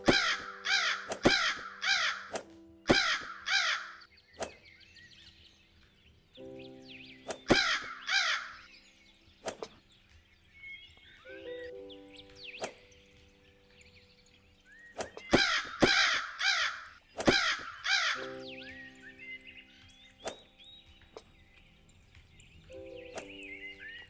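Crow cawing in the video game Nicky: The Home Alone Golf Ball, harsh repeated caws in clustered bursts with pauses between them, loud and close, over faint game sounds.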